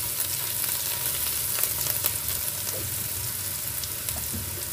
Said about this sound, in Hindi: और प्याज को हल्का गुलाबी होने तक भूनेंगे।